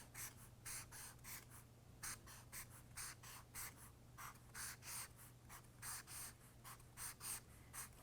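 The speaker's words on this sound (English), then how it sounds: "I'm going to draw a nice big circle, and then I'm just going to draw some skinny triangles" Pen or marker drawing lines and shapes on paper during a guided drawing of a teepee, a quick run of short scratchy strokes in an uneven rhythm, close and fairly quiet, with a steady low hum underneath and no talking.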